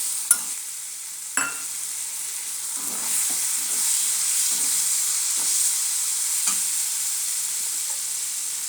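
Spices and chopped tomato fry together in oil while cooking meat curry, a constant moderate sizzle with a couple of sharp knocks early on and faint scraping stirs throughout.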